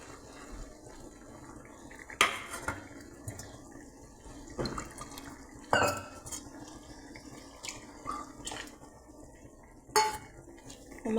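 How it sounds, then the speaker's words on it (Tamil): Ground coconut is added to a boiling pot and stirred, with scattered clinks of a utensil against the pot and soft liquid sloshing at close range. "அரைச்சி வச்ச தேங்காய் சேர்த்துக்கலாம்"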